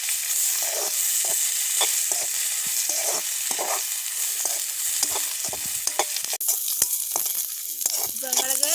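Round white balls of dough frying in hot oil in a pan in a village kitchen, a steady loud sizzle throughout with repeated stirring scrapes and bubbling crackles on top.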